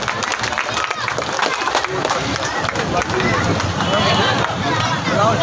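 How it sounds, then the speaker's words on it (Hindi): Loud applause rises from a crowd at a Vishwakarma Puja gathering, dense clapping mixed with crowd murmur that grows a little stronger toward the end, and no one speaks above it. "जोरदार तालियां मित्रों"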